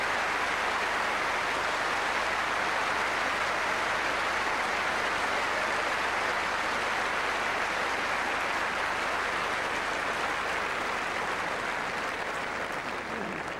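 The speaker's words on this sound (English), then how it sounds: "Generous applause and" Sustained, dense crowd applause for the winners of the 2005 Wimbledon mixed doubles final, a steady wash of clapping that holds loud and even throughout with no voices rising above it.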